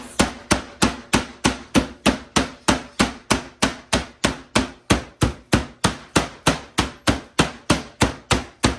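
A meat tenderizer mallet pounds pork chops flat into cutlets in steady, loud, evenly spaced blows, around three strikes a second, close up with no talk over it.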